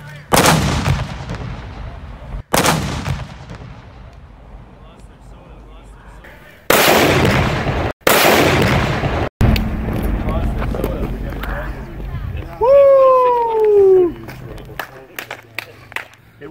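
Heavy 1839 10-inch seacoast howitzer firing a six-pound black powder charge: several loud, sharp booming blasts with long rumbling decay, outdoors, with people talking and shouting between shots.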